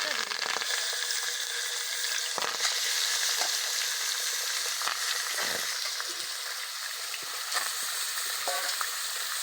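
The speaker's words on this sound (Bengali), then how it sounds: "জিরে মেটেটা ভালো করে ভাজা হতে থাক" Chicken liver frying in hot mustard oil in a kadai, a loud continuous sizzle with occasional crackles and stirring scrapes, close up and steady with no talk.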